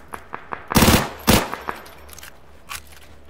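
Gunfire in the PUBG video game: two loud, sharp shots ring out close together, surrounded by fainter clicks and smaller pops, with no talk.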